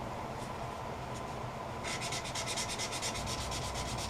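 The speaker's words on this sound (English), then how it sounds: "I spent a few minutes sanding with 400 grit on that rough spot" A turned redwood bowl is hand-sanded with 400-grit paper on a rough glue-patched spot, a steady soft rubbing hiss that turns into faster rhythmic back-and-forth strokes, close and quiet, with no voices.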